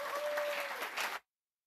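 Audience applause at a closing presentation in Ulm, a dense, loud round of clapping with a faint whistle-like tone, cut off abruptly after about a second.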